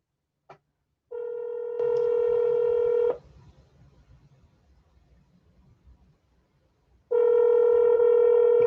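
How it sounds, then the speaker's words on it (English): Tones from a phone dialing the South Padre Island Police Department sound loud and steady, first a short blip, then a sustained tone that shifts pitch and cuts off, a quieter noisy stretch, and the tone returning. "I keep trying to call back over and over, and I can't get a person on the phone"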